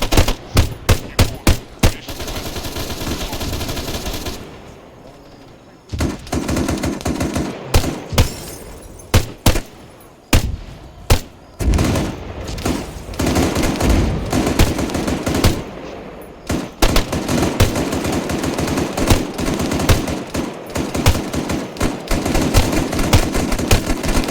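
Gunfire in the video game Arma III: loud, close bursts of automatic fire and single shots crack repeatedly over about twenty-four seconds, with short pauses between volleys and no talking.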